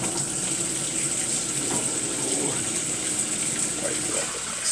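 Water running from a kitchen tap into a cooking pot in a small studio apartment, a steady soft gushing stream with faint clatter, no speech.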